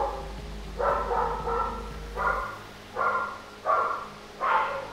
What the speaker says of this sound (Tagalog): so, napakaingay ng aso.